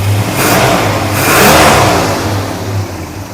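A Dodge Super Bee with a rebuilt 383 V8 revs twice, loud and close, each throttle blip swelling into a deep roar before settling back to a rumbling idle.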